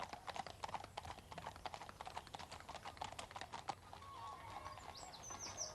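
Horses' hooves clip-clop on a woodland path, a quick, fairly close run of distinct knocks in an uneven rhythm, with birds chirping faintly in the background and no voices.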